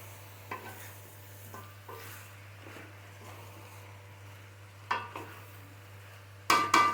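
Chicken pieces with giblets, liver and potatoes stir-fried in a pan for a homestyle village chicken curry, with intermittent scraping stirs and a low sizzle, and a sharper clatter of the pan near the end.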